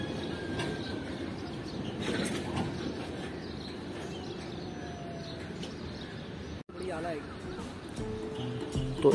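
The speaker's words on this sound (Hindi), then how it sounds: "फ्रेट ट्रेन लग चुकी है मली रेलवे स्टेशन के" A freight train stands at a railway station on the up loop track, giving a low continuous rumble with rail clatter, while a person talks over it and birds call.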